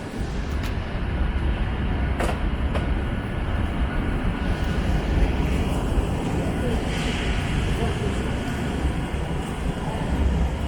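A passenger train rolls into London St Pancras International, a continuous low rumble of wheels and carriage noise with faint clicks over the top and no clear voices.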